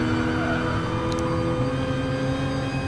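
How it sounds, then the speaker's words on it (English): Racing car engine revving in a racing video game, a steady loud drone with continuous harmonic whine that holds for the whole stretch without letting up. "He's revving this car out quite a bit as well"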